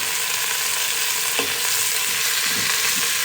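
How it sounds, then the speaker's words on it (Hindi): Chicken fries in a pan with onions, crushed garlic and salt for chicken soup, giving a loud, dense, continuous sizzle with a few stirring scrapes partway through. "अब हमने इसको इतना फ्राई कर लेना है कि चिकन का कलर चेंज हो जाए, गोल्डन गोल्डन सा हो जाए।"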